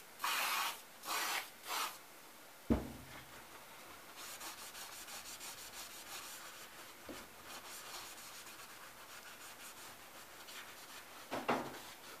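Three short, sharp hissing bursts from a spray bottle in quick succession, then quieter rustling and one more spray burst near the end.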